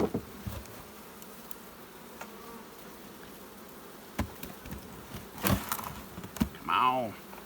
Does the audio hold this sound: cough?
no